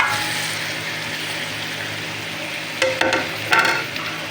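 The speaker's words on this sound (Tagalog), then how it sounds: "Ilalagay na po natin ang ating kamatis." Tomatoes sauté in a hot pan with ginger for shrimp sinigang, a steady close sizzle broken by a few stirring scrapes and knocks near the end.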